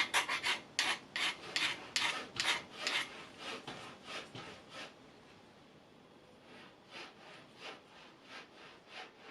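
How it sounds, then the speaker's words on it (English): Brake pads from a Yamaha Neo's 50 scooter get a light filing. Short rasping strokes come in a quick rhythm, close and fairly quiet, and a softer run of strokes follows. "So I'm just going to give them a very, very light file."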